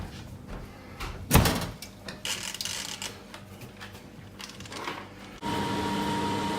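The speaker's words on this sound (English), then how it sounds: "And then close the oven door." An oven door is pushed shut with a sharp clunk, followed by scattered clicks and rattles as it locks, then a steady mechanical hum starts up as the cleaning cycle runs.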